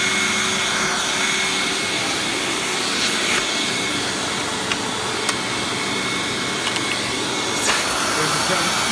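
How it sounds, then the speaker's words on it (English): A Hoover Windtunnel Supreme U5458-900 upright vacuum cleaner runs with a loud, steady, broadband roar and a faint high whine, close by, with a few small clicks as it moves over carpet. "The suction's so powerful it actually lifts up on the carpet."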